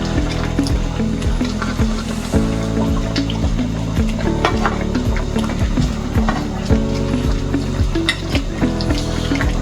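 Jamaican-style steamed fish cooks in a pot with a little water and sauce, giving a steady close sizzle and bubbling with intermittent clinks and scraping of utensils against the pot, no talking.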